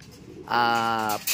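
A young pigeon coos once as it comes down, a single drawn-out tonal coo lasting about two-thirds of a second, close and clear after a quiet start.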